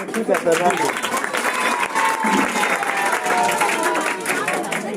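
An audience claps during a Republic Day address, a broad continuous patter of many hands mixed with crowd murmur and some voices talking over it.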